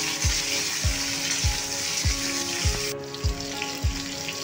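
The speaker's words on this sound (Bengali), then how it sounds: "তেলে আলুগুলো ভালো করে আগে ভেজে নেব।" Cut potatoes fry in hot oil with a dense, continuous sizzle, close and fairly loud, while a low knock repeats roughly every half second underneath; no speech.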